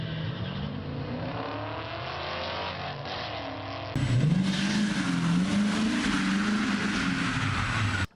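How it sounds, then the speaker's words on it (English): A Corvette revs and drives in old amateur footage, engine note rising and falling with hard acceleration, loud and close, the sound quality shifting midway as the engine pulls harder. "That was my Corvette"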